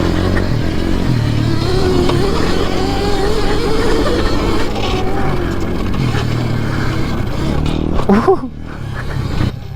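Electric pit bike, a KTM 65 conversion, ridden around a test track: a loud, steady whir and rumble with shifting speed, ending in a brief rise and fall of pitch, with a short exclamation from a voice.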